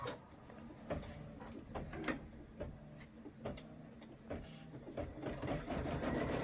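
An embroidery sewing machine stitches a placement outline on a party hat, giving a soft, steady run of rhythmic needle clatter with small knocks, moderately quiet and heard alone.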